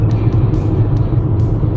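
A car cruising along the E4 highway in Sweden, a steady low road rumble and engine drone close inside the cabin with no voices.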